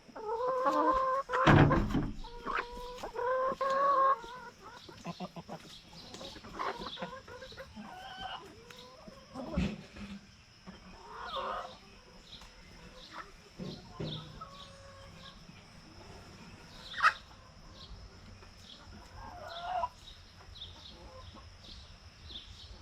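Chickens cluck and murmur softly around a close GoPro, with a few louder squawks early on and scattered pecking and rustling.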